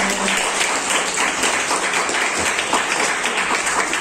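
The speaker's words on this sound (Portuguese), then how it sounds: "Aplauda o Senhor Jesus." A church congregation applauds together at a Portuguese-language worship service, a steady, dense wash of clapping that fills the space evenly for about four seconds with no voices standing out.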